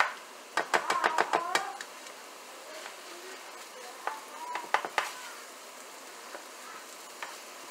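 Food sizzles quietly while being mashed and melted in a pan, with soft clattering of a utensil against the pan in scattered clusters over a low frying hiss.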